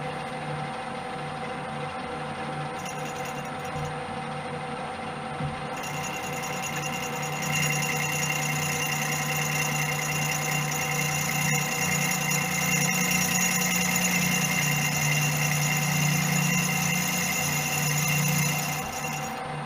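Welder tacking a sprocket onto a supermoto wheel in a workshop, a steady crackling buzz that grows louder and denser partway through and holds for several seconds before easing off.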